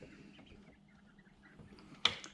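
Soft, high peeping of about 25 three-week-old quail chicks scattered throughout, ending in a sharper burst of louder chirping near the close.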